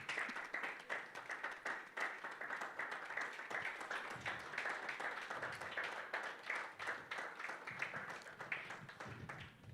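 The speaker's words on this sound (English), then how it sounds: "Clap for her till she comes on." Audience applause for a woman being invited on stage at a democracy and legal activism event, a steady dense patter of many hands clapping throughout, moderately distant, with no talk over it.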